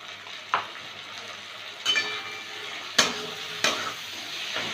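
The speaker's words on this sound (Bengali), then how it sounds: "এবার একটু নেড়ে চেড়ে" Fish stirred in a frying pan with salt and turmeric, giving a steady low sizzle with three or four sharp scraping clinks of the spatula against the pan, close and alone.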